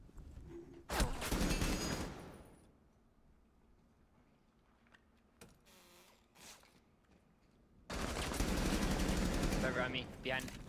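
Gunfire in the video game Rainbow Six Siege comes as two loud bursts of rapid automatic fire, one near the start and a longer one at the end, with quiet game noise and a few faint taps between them.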